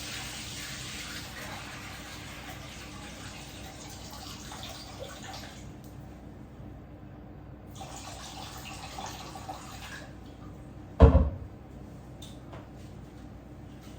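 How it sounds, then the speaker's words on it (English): Water being poured off cooked rice for Nigerian native rice, a steady soft splashing and trickling that runs for several seconds, pauses, resumes, then ends with a sharp clatter. "you can choose to use a strainer to strain it, or just get the water out"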